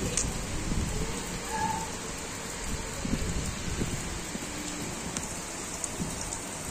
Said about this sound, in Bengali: দেখতে পারতেছেন কঠিন বৃষ্টি গাইস